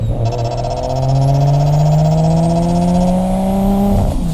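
A Nissan R33 Skyline with an RB26 engine revs in a series of close, loud throttle blips, its exhaust note rising and falling smoothly over a steady idle-like drone.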